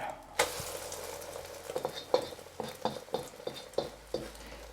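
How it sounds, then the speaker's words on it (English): An egg fries in a very hot pan during a chicken and vegetable stir-fry, giving a soft steady sizzle broken by repeated scraping and turning strokes, with no voices. "since that pan is quite hot, our egg cooks really, really fast"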